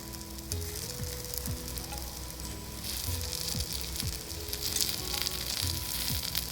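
White sorghum paniyaram frying in a pan gives a steady close sizzle, with occasional scraping and turning clicks. Faint background tones run underneath, and no one speaks.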